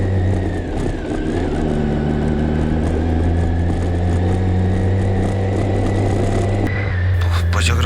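A motorcycle engine drones steadily at moderate revs while climbing a steep cobbled slope in northern Portugal, loud and close, with a brief rise in pitch near the end.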